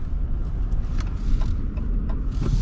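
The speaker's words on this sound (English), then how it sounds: "Love that Hemi sound." A 2025 Ram 1500 Rebel with the eTorque Hemi engine gives a steady, deep, smooth rumble while driving, heard from inside the truck without any voices.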